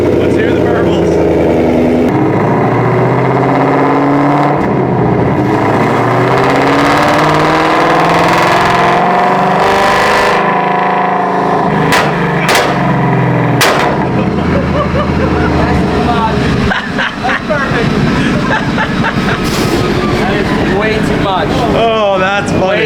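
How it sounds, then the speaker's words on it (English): Tuned Ford Mustang S650 running on E85 with a burble tune, its exhaust loudly rumbling and revving with crackling pops and bangs throughout, close by, while people talk over it. "Let's hear the Burbles."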